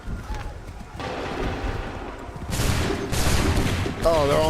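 Musket volleys crack out in the Assassin's Creed III video game, a loud rolling fusillade of overlapping shots mixed with battlefield clamor and shouting voices.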